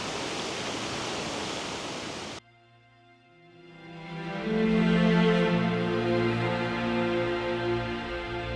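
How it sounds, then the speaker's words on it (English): A small, picturesque waterfall rushes in a steady broadband roar, loud and continuous, with a short quiet gap partway before the flow of water swells back. "So now I'm at this really pretty little waterfall."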